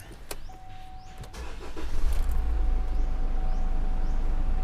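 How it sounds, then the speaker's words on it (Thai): A Chevrolet Trailblazer engine cranks over and catches, then settles into a steady, loud rumbling idle close by; no one speaks. "ซัดเครื่องให้ฟังเลย"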